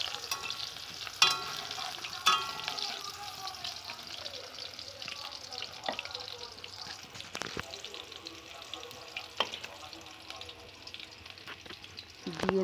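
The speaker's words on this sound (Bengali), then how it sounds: "পেঁয়াজ কুচোগুলো ভালো করে আমি নেড়ে নেবো।" Chopped onions with cumin frying for spinach dal, stirred in the pan: a steady low crackle with intermittent scraping clicks of the spoon, moderately close and alone without talk.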